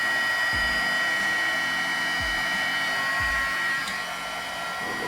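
A heat tool used for stamping blows a steady, loud stream of hot air, a continuous close whooshing hum that eases slightly near the end.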